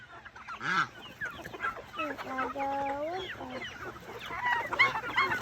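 Chickens of mixed breeds on a farm cluck and squawk close by in a busy, overlapping flock, with scattered calls throughout and faint voices in the background.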